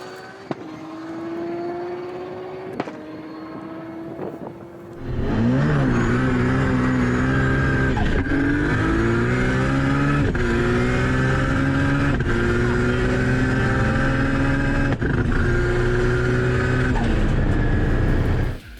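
A Nissan R32 GT-R with an RB26 engine blips quietly, then launches and accelerates hard down a runway at an event in Cootamundra, loud and sustained, its pitch rising through repeated gear changes.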